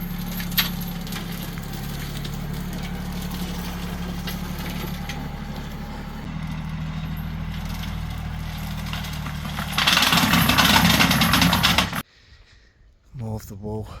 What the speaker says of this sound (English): he's trying to get his tractor in.